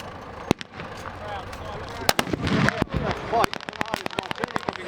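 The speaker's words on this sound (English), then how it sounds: "Artillery coming in now." Simulated artillery explosions at a tank battle re-enactment at the Bovington Tank Museum in Dorset, England, go off as sharp bangs, some isolated and then a rapid volley, loud and fairly close, with a commentator talking over them.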